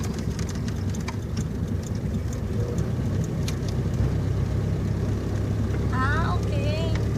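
Car engine running steadily in third gear during a driving lesson, a continuous low drone from inside the cabin with no voices.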